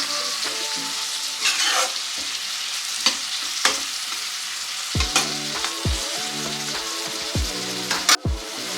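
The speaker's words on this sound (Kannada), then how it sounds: "ಈ ರೀತಿ ಮಿಕ್ಸ್ ಮಾಡ್ಕೊಂಡಾದ್ಮೇಲೆ 2ರಿಂದ 3 ನಿಮಿಷ ಟೊಮೆಟೊ ಬೇಯೋದಕ್ಕೆ ಬಿಡೋಣ." Tomatoes being mixed and cooked in a pan for Indian-style masala macaroni, with a loud continuous sizzle and repeated sharp scraping stir strokes and clinks, no talking.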